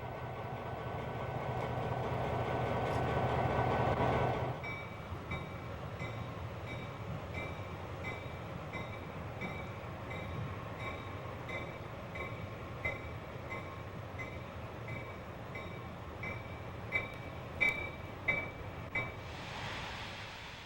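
Freight train locomotives work cars on a branchline with a low diesel rumble, steady rolling and clanking of cars, and occasional squeals and knocks, heard at a moderate distance and fairly faint.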